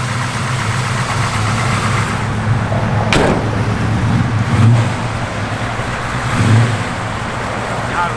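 A 1969 Chevrolet Camaro running on pump gas, its engine idling with a steady loud rumble, rising in two brief revs near the end, and a sharp click partway through.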